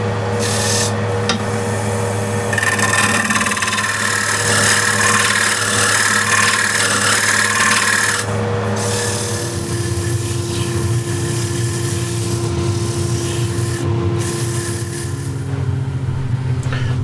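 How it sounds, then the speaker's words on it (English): Scraper taking a light cut on an old wooden bowl spinning on a lathe, giving a continuous close rasping rub over the steady motor hum, with the scraping easing after about eight seconds. "So just want to take a light cut, scrape, until I get it smooth."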